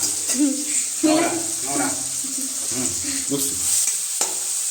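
Vegetables, tomatoes and garlic sauté in a pan for sambar, a continuous close sizzle with stirring scrapes while voices talk over it.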